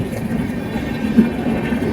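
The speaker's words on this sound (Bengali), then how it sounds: "সেই যোধপুর বানারসি ট্রেন আসলো।" The Jodhpur–Banaras train rolls past a railway level crossing in a Rajasthan town, making a steady low rumble of wheels and carriages with a faint rhythmic clatter, close by and unbroken for the full two seconds.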